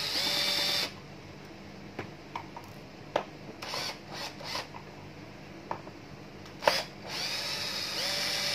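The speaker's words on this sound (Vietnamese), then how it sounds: "Tháo bốn ốc lớn này." Screws are being removed from a 2006 Sanyo 1-litre high-frequency induction rice cooker, heard as a steady buzzing whir at first, then a series of short, close clicks and light scrapes with brief whirs between them.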